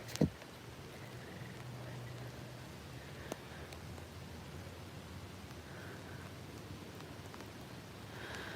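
Rain falls steadily in a Texas cemetery as a soft, even hiss, faint and unbroken, with one sharp tap near the start.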